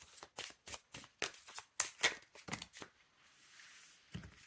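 Tarot cards are shuffled and drawn by hand, giving a quick run of crisp, close card flicks and riffles with short pauses between them, then a quieter stretch and a final snap. Nobody speaks.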